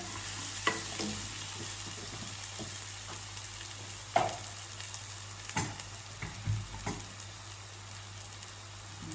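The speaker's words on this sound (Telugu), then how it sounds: "బాగా ఫ్రై అయ్యాక ఏమిటో ఈరోజు చిటుకులు పటా పటా పడుతున్నాయి" Oil crackling and spluttering in a pan while frying for coconut milk rice, a quiet steady sizzle broken by scattered sharp pops, close, with a low steady hum underneath and no talking.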